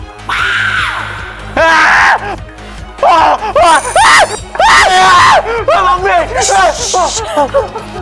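A groom on his wedding night screams loudly and repeatedly in long, wavering yells, with overlapping voices and background music running under the cries.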